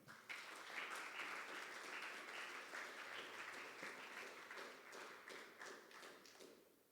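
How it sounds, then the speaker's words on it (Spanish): Sustained applause from a church congregation, dense steady clapping lasting several seconds before tapering off at the end. "Dale un aplauso al Señor."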